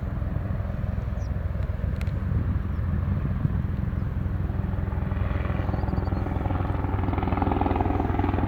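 A helicopter passing overhead, heard as a steady low rotor and engine rumble that stays strong and constant throughout, with no talking.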